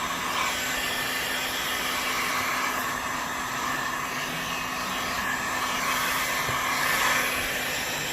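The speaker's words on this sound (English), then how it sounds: "I like to put a little heat gun on it sometimes." A heat gun blows a steady, even whooshing roar for several seconds while drying freshly painted front brake calipers on a 2004 GSXR 1000 motorcycle, close and continuous with no talking.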